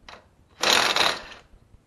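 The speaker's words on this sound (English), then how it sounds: "Now we want to take off the pinch bolt." A ratchet works a pinch bolt loose on a 2010 Yamaha Royal Star Venture motorcycle during rear tire removal: a short click, then about a second of steady, close ratcheting whirr, with no talking.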